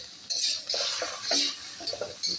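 Chicken with soy sauce being stirred in a pan for a wedding-style Chinese vegetable dish, with loud bursts of wet sizzling and scraping that come in uneven pulses as the spoon moves.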